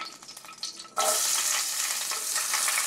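Garlic dropped into a very hot pan for beef caldereta, bursting into a loud, steady sizzle that starts abruptly and holds without break.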